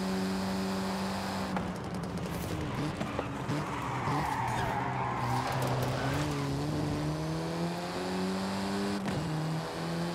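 A '77 Pontiac Trans Am in a Forza street race, its engine droning steadily and rising through the gears while tires squeal and skid through the turns, loud and continuous with no talk.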